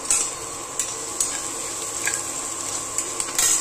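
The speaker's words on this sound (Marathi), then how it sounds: "ब्राऊन कलर होईपर्यंत कांदा भाजलेला आहे" Onion sizzles and fries in a steel kadhai while a spatula stirs and scrapes, with sharp metallic clicks against the pan recurring every half second or so over a steady frying hiss.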